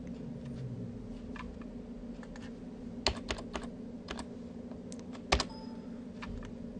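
Typing on a computer keyboard while renaming a file: a quiet, irregular run of key taps with a few sharper, louder strikes, close by, against a low steady room hum and no speech.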